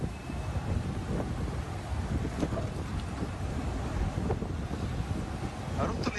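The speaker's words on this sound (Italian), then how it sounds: "Fuori il vento strappa vaporetti e motonavi dagli ormeggi." Strong wind buffets during a Venice flood storm, a dense continuous roar of gusting air and microphone rumble with faint splashing and harbour noise beneath, loud and unbroken.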